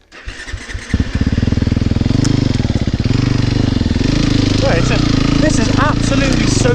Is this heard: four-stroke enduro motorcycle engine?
yes